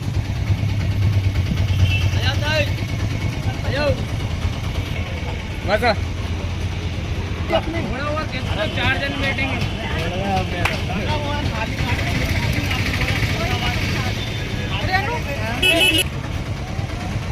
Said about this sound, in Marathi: हे बघा हे रिक्षा आहे याच्यामध्ये सर्व उपासक बसलेले आहेत